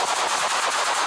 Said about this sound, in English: 4 uniformed Denver police officers discharged firearms at the subject